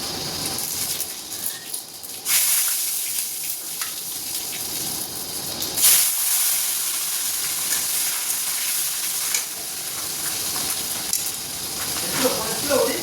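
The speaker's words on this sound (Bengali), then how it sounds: "শুকনো লঙ্কা, গোটা জিরা, তেজপাতা ফোড়ন দিয়ে দেবো।" Dried chillies, whole cumin and bay leaves hit hot oil with a steady, bright sizzling hiss, swelling in brief surges over a few seconds, with faint kitchen clatter behind it.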